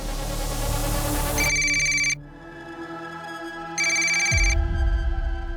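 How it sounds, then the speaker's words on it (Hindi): A telephone rings in two bursts of a bright electronic trill, separated by a short pause, with a low musical drone underneath. "अब रमाकांत को फोन कीजिए साहब प्लीज"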